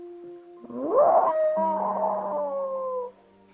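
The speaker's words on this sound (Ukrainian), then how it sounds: "величезний сірий вовк, задер мордяку догори і знову голосно завив" A large grey wolf lets out one loud, rising howl that bends upward and holds a long wavering note for about two seconds, then cuts off, set against a musical background.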